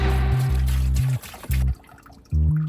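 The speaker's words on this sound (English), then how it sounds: "I then added 10 litres of water straight into the pressure washer unit." Water pours from a container straight into the tank of a battery-powered mobile pressure washer in short bursts, a near, bubbly gurgling with brief pauses between glugs.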